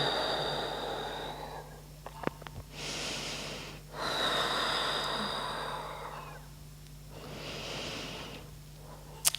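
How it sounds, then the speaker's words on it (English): Slow, gentle breaths during a relaxing yoga session, long airy inhales and exhales rising and falling in a steady rhythm, close and soft, with no talking over them. "Just breathing gently into your body here."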